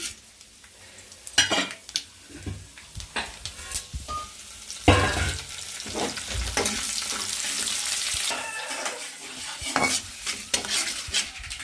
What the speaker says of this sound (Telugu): తాలింపు అయితే బాగా వేగింది కదండి